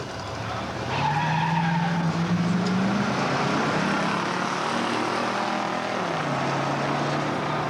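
Muscle cars from 1985 drag racing at Beech Bend, a loud sustained roar of revving engines and tire noise that builds after the first second and stays steady, with a rising engine pitch and no talk.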